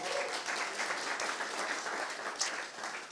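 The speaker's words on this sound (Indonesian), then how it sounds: "Tepuk tangan untuk mereka." An audience applauds guests from Papua at an Indonesian debate event, with moderate, steady clapping across the hall that stays fairly even throughout.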